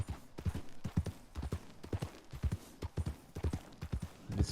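Horse hooves clip-clopping in the video game Red Dead Redemption 2, a steady, close run of soft rhythmic hoof thuds that continues without a break.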